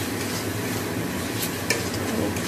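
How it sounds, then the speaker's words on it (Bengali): Meat and tomato stir-fried in a little oil in a pan, giving a steady close sizzle with soft scraping of the spatula throughout and a brief clink near the end. "টমেটো দিয়ে সমস্ত কষা হচ্ছে।"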